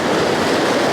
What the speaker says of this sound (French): je vois les grosses vagues